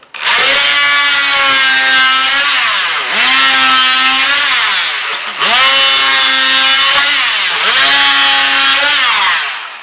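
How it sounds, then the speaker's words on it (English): Oscillating multi-tool trimming wooden bungs flush on boat planking, a loud, steady high-pitched buzzing whine in four long bursts with brief dips between cuts. "So I cheat and use my oscillating saw or multi-tool."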